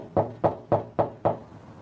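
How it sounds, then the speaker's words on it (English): Enforcement agents rap on a debtor's door, five firm, evenly spaced knocks about a quarter second apart, close and clear with no talking. "Their knocking has raised one of the occupants"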